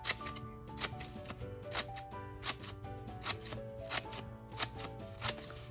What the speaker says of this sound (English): The easiest way is to put them together and then just start cutting.